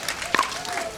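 Crowd at a pro mixed pickleball match on championship court at the US Open, a short burst of applause and cheering under a commentator's voice.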